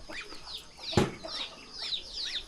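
Ducks, chickens and chicks gather at morning feeding on a rural farm, with soft clucks and chirps, a burst of wing flapping near the middle and quiet birds calling throughout.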